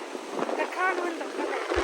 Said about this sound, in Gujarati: પવન જ એટલો હે